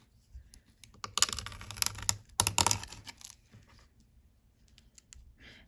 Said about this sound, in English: So I do need to cut a little strip all the way around so that it looks like postage stamps.